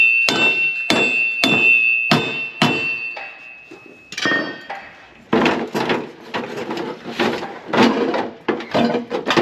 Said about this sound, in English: And then just hammer on this thing.